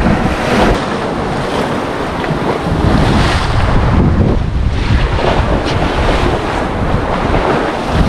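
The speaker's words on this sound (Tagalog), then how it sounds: "Ang lakas ng alon." Strong ocean waves surge and churn around a small boat at sea, a loud continuous roar of surf and water mixed with heavy wind buffeting, no voices.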